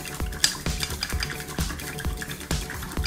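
A spoon stirring salt into 50 ml of water for cheese potatoes, steady rhythmic scraping and clinking against a bowl, close and fairly loud, with no talk.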